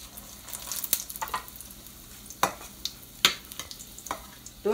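Fry bake dough frying in a pan of oil, with a low steady sizzle broken by sharp crackles and pops at irregular intervals, close up and without talk.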